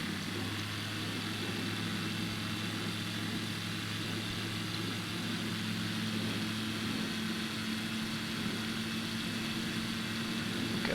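Small propeller aircraft engine in Microsoft Flight Simulator, a steady droning hum holding an even pitch throughout, loud and continuous with no talk.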